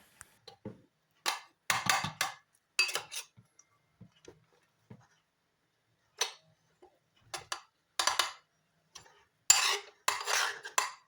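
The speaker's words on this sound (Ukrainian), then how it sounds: "У шприц дуже щільно накладаю фарш так, щоб у шприці взагалі не було повітря." Minced meat is packed tightly into a sausage syringe for homemade sausages, heard as scattered short clanks, scrapes and soft knocks separated by silence, close by and moderately quiet, with no voices.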